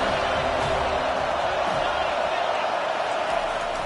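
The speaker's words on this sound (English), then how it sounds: "Here comes the crowd trying to make it tough on 3rd and long." Loud, steady stadium crowd roar in a college football video game, FSU against Rutgers, swelling on a third-and-long play as a broad wash of noise with a commentator talking over it.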